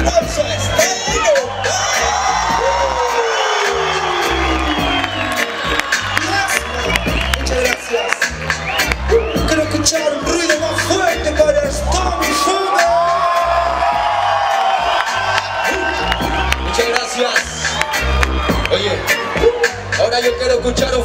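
A crowd at a live stage show cheers, whoops and claps for a performing group, loud and continuous, with babble and shouting mixed into the applause and music-like tones running underneath.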